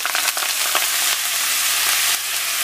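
Moringa leaves tossed into a hot pan of oil, a loud, dense close-up sizzle that spits and crackles continuously and dips slightly near the end, with no one talking.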